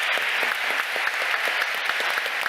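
An audience at a Bitcoin conference applauds a speaker, steady dense clapping with sharp individual claps standing out, continuous and fairly close throughout.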